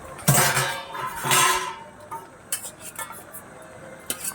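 Vegetables with prawns and wilted Malabar spinach leaves get stirred in a pan, with a few loud scraping sweeps of a spoon followed by lighter clinks and knocks, faint sizzle underneath, no talking.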